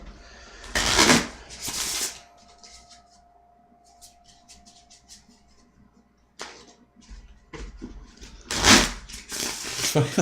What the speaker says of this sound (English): the sound of shuffling cards is depressing now